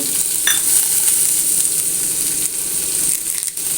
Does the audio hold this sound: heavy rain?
no